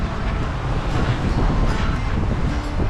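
Strong wind roars across the microphone while sailing on Sydney Harbour, a loud, steady buffeting rush with water noise beneath.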